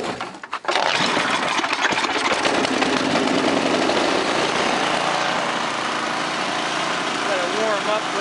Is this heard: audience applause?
no